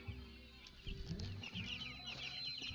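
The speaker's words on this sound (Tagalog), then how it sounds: "ayan po ang mga ating chicken broiler 14 days po yan" Fourteen-day-old broiler chickens peep and cluck close by in a soft, busy chorus of overlapping chirps, with light shuffling beneath.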